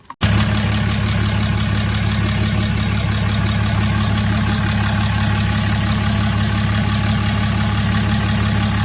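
6.7 Cummins diesel engine idling after a fuel filter delete, a loud, steady low rumble with a rhythmic knocking clatter, starting abruptly and running unbroken close to the microphone.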